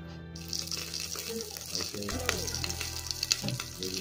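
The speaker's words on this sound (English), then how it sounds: "I'm just about to fry it." Leftover pinto beans and rice fry in a hot pot with a continuous crackling sizzle, broken by scattered pops and stirring scrapes, heard close and fairly quiet.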